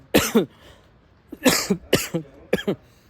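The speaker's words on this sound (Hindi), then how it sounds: "खांसी स्टार्ट हो गई है" A series of harsh coughs come in short bursts, several close together, loud and near with quiet pauses between.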